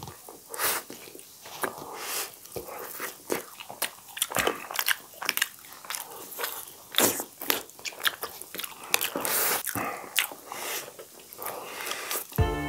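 Someone eating spicy noodles and fried potato chips up close, with loud crisp bites, crunching and wet chewing repeating irregularly throughout, plus occasional sniffs.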